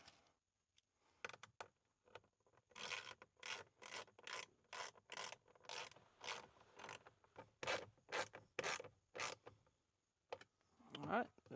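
Small bolts are tightened back in on a Ford F-350 dually truck with a ratchet, heard as a run of quick, regular clicking bursts close by and fairly quiet, with brief pauses between them.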